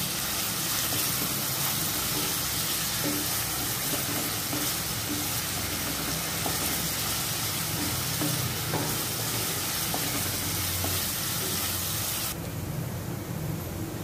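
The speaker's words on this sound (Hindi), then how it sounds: "हाई फ्लेम पे प्याज को अच्छी तरह से भून लें।" Finely chopped onion fries hard over a high flame, giving a dense, continuous, loud sizzle with faint scraping of stirring beneath it, which drops away abruptly near the end.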